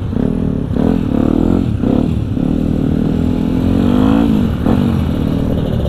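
A crowd of motorcycles revving together at a Sunday morning group ride to a rest area in Lembang, loud and close, with repeated throttle blips rising and falling over a constant deep engine rumble.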